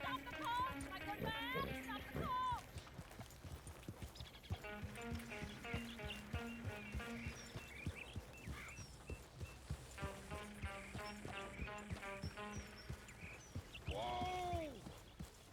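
Horse hooves clip-clop at a steady trot in the open world of Red Dead Redemption 2, fairly close and mixed with a musical score and other game sounds, continuing through most of the stretch.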